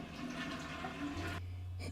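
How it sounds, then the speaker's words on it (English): A toilet flushes in a small apartment bathroom: a rushing gush of water that cuts off into a low steady refill hum, near and alone. "you flushing the toilet is wasting water"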